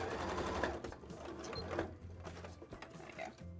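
A sewing machine runs fast through fabric for arm wings, a close, steady mechanical whirring chatter that eases slightly toward the end.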